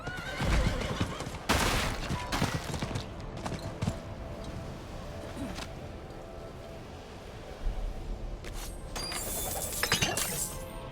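Horse neighing and clip-clop of hooves in the video game Diablo 4, with a loud whinny near the start and sharp breaking, clinking effects through the middle and again near the end, heard alone with no talk.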